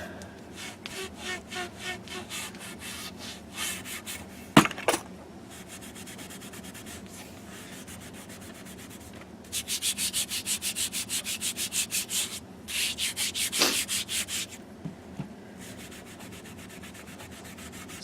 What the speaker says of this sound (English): What I'm doing is using the steel wool to cut through the grime.